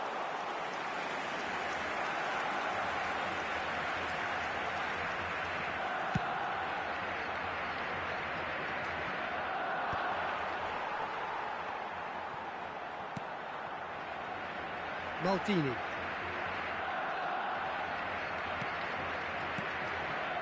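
A football crowd in the eFootball video game keeps up a steady roar with a low murmur throughout, and a commentator talks over it.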